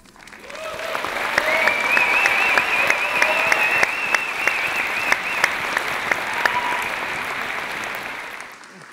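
Audience applause at a UCLA doctoral hooding ceremony, sustained clapping that swells and holds at a steady, moderately distant level, with faint whistles or cheers riding over it.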